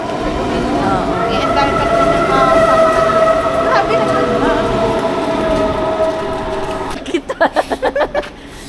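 A loud sustained train tone holds steady for several seconds amid station rumble and voices, then gives way to a quick run of rhythmic clicks.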